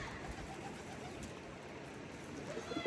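Pigeons in a loft coo softly, with low murmuring calls under faint background noise and a few slightly louder coos near the end.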